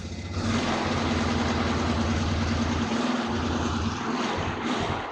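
A 2002 Polaris Sportsman 400 ATV engine, cold after starting with the choke, idles slowly with a steady, loud, continuous low drone and an even hum throughout, with no talking.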